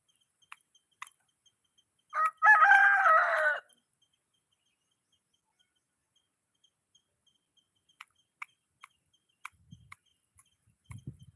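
A single loud rooster crow rings out close by, then near silence with scattered faint clicks and a soft rustle at the end.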